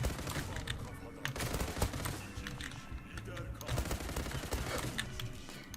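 Gunfire in the online shooter game Zula comes in dense, rapid bursts of shots that crackle nearly without pause over the whole stretch.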